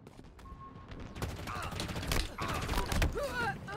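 Gunfire crackles in a rapid, dense exchange during Halo gameplay, mixed with mechanical game effects and busy game sound at a moderate level.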